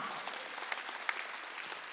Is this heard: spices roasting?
no